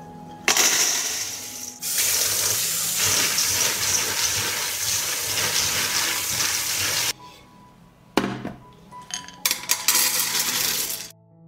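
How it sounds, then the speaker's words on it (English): 500 grams of beans washed under running water, a loud rushing stream for several seconds and then stops, followed by rattling handfuls of beans and splashes, close by with no voices. "I will wash 500 grams of beans."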